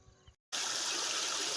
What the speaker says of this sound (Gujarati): આપણી મોટર એટલું પાણી કાઢે છે મિત્રો અને તમે જોઈ શકો છો અને આ રીતે ધોરિયામાં જાય છે